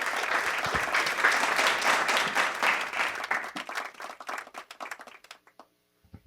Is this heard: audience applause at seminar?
yes